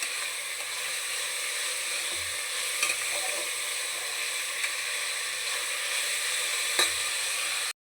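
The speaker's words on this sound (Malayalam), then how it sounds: "തക്കാളിക്ക ഇട്ട് വഴറ്റാം." Onion and tomato sizzle steadily in a pan as a base for Kerala thattukada-style beef curry. The frying hiss is continuous and close, with occasional soft stirring knocks and no talking.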